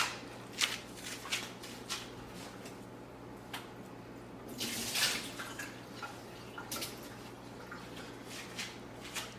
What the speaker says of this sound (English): I'm gonna squeeze this a bit and drain the excess water of it